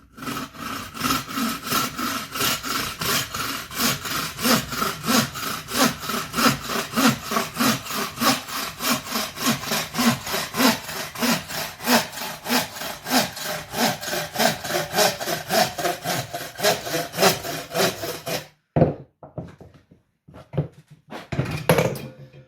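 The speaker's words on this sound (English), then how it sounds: "Using the old bow saw, just trim it down to about there, I think." An old bow saw cuts through a natural tree branch with steady, rhythmic back-and-forth strokes, loud and close, continuing for most of the stretch before stopping abruptly, followed by a few scattered knocks of wood.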